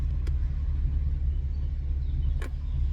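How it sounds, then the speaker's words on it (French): Sports cars arriving in a convoy at a Rotary Days car meet, heard as a loud, continuous low engine rumble close by for a few seconds, with no talking. "Oh les bolides qui arrivent là"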